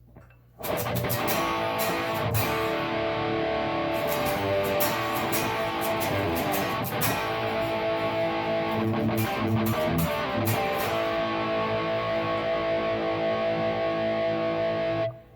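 Telecaster with reverse Esquire wiring and killswitch, set to first position with the pickup alone and no tone control, played for about fifteen seconds of sustained, slightly gritty electric guitar chords and notes with no talking.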